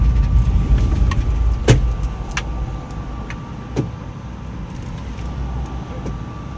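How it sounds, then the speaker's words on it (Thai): Converted electric car slowing under regenerative braking, heard from inside the cabin as a steady low road rumble with faint motor hum and a few light clicks and knocks. "ตรงนี้รถก็จะชะลอครับเพราะว่ามีระบบรีเจนเข้ามาช่วยนั่นเองนะครับ"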